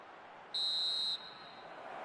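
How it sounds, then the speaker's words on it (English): A referee's whistle blows for half-time in a football video game, one sustained shrill blast of about half a second, loud and clear over a low crowd murmur. "And the whistle goes for half-time."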